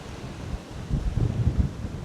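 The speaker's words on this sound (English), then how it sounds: "it is a bit windy down here" Wind buffets across the West Pennine Moors in uneven gusts, low rumbling blasts against the microphone that swell and fade, with no voices.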